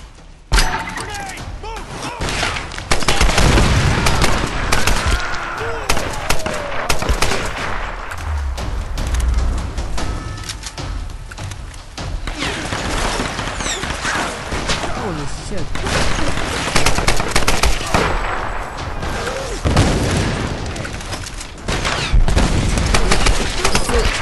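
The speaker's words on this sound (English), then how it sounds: "They expect you to use this gun." Dense gunfire rings out in the Tomb Raider video game, bursts and thuds layered through a busy battle mix with speech over much of it and loud, steady intensity throughout.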